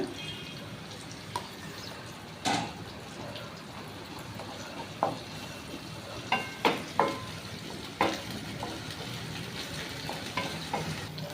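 Ginger paste is fried and stirred in a pan after onions and tomatoes, with a busy crackling sizzle and a series of spoon taps and scrapes scattered throughout.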